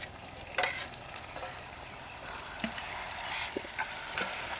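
Onion and chili paste frying in oil, with a close, steady sizzle and a few light scrapes and taps of stirring scattered throughout.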